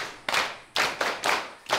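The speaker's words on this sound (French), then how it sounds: "Applaudissez pour lui." Small group in a classroom clapping for a student's answer, a handful of close, crisp bursts of claps separated by short pauses, loose and uneven in rhythm.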